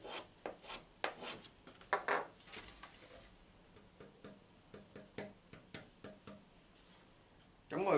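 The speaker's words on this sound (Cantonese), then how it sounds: "我就會慢慢用呢個刨仔同埋砂紙，將某啲我認為需要降低嘅音量嘅最高點刨一刨佢" Small hand plane and sandpaper shaving and sanding an acoustic guitar soundboard during voicing: a close series of short, quiet rasping strokes in an irregular rhythm, with a louder scrape at the very end.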